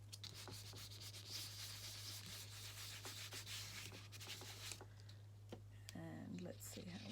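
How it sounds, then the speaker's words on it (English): Ink is rubbed firmly onto junk journal paper in quick, repeated scrubbing strokes, a close, soft rasping rhythm that eases off near the end, where a faint voice comes in. "Just giving it a good rub."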